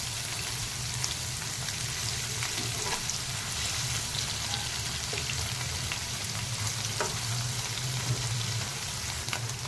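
Paneer fries in ghee with a continuous dense sizzle and a low bubbling rumble. The sound stays even and close throughout, with no voices.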